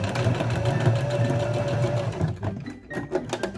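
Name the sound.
sewing machine sewing face mask edge back and forth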